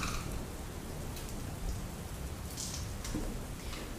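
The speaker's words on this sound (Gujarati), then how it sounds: "સૌરાષ્ટ્ર પંથકમાં મુશળધાર વરસાદ મેહુલ્યો વરસી રહ્યો છે" Heavy monsoon rain pours down in a village in the Kalyanpur area of Dwarka, Saurashtra, a steady dense hiss of drops with occasional louder splashes, constant and close.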